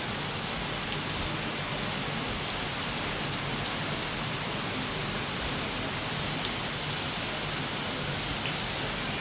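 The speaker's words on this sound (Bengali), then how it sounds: "এখন হাত দেখে দেওয়া হচ্ছে যে প্রচণ্ড বৃষ্টি" Heavy rain pours down in Dhaka in a constant, dense roar of noise, with occasional sharper drop hits standing out against the steady downpour.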